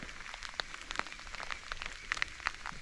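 Rain falling in the bush while a hunter stalks fallow deer, light irregular patter of drops striking nearby surfaces and gear.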